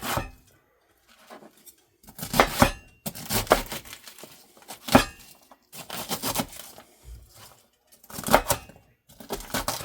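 A knife chops through a small head of cabbage on a board in close, crisp bursts of rapid cuts, with short pauses between each flurry and no talking.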